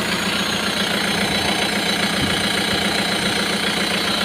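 A vehicle engine idles steadily with a thick stainless steel exhaust pipe, a continuous low rumble with a mid-range hum, loud and close, with no talking throughout.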